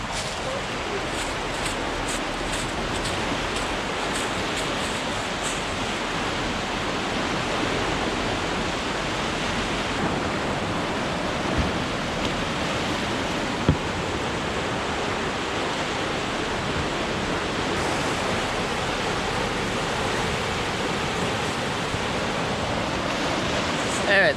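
Rushing water churns steadily in a concrete wave channel, a loud constant roar like surf or a waterfall with wind, and speech is faintly audible beneath it.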